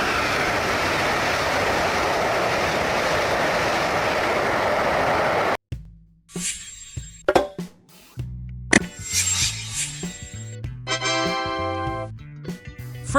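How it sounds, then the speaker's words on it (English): High-speed train rushing past at over 300 km/h, a dense steady roar for about five seconds that cuts off abruptly, followed by scattered tonal musical sounds. "High-speed train. Whoosh, and it's gone."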